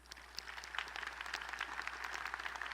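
An audience at Lamar University's College of Engineering commencement in December 2017 gives a steady round of applause, soft and distant, with a dense patter of many hands clapping throughout.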